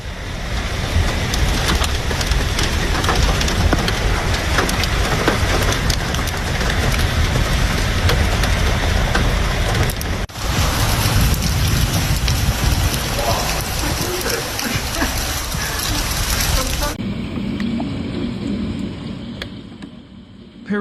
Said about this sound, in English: Streets turned into rivers as drainage systems struggled to cope with the sheer volume of rain.